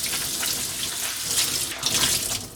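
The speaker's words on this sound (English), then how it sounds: "Alright, so we just rinsed it out with some water." Sink faucet running steadily as a stained item is rinsed under the stream, a close, continuous hiss of water with small splashes and no voices.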